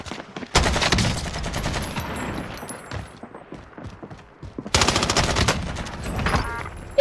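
Video game gunfire in two heavy, loud bursts of rapid automatic shots, one early and one near the end, with quieter scattered shooting and faint talk between.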